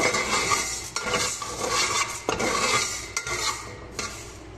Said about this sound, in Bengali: মসুরির ডাল ভাজা শেষ।